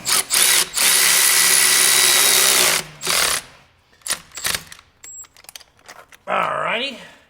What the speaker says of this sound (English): Switch our ratchet. There's a little snug on that.